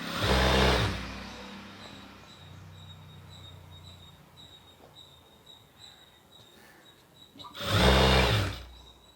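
A sewing machine stitches a skirt with two short, loud bursts of whirring at the start and near the end, separated by a quieter stretch of low background hum.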